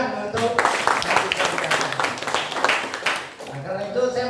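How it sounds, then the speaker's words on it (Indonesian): An audience at a university community-service (KKN) village gathering claps together in a dense burst of applause, with a speaker's voice just before and after it. "tepuk tangan untuk"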